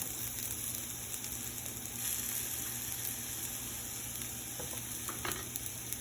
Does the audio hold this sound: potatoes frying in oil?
yes